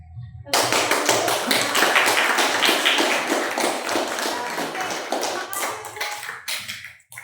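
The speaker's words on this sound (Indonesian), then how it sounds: "jadi kita beri tepuk tangan sebagai apresiasi untuk kelompok 1 dan kelompok lainnya yang sudah menanggapi" A classroom of students applauds a presenting group, a lively burst of dense, rapid handclapping that starts abruptly, holds steady for several seconds, then thins into a few scattered claps near the end, with some faint children's voices underneath.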